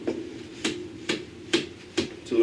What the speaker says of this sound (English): I gotta get a hammer and tap it.